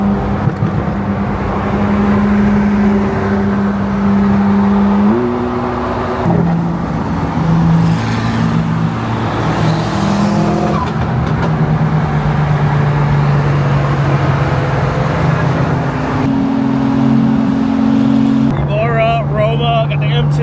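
A Ferrari 458 engine drones loudly with shifting tones, as if revving and pulling away among other cars at a busy car meet, with people talking nearby.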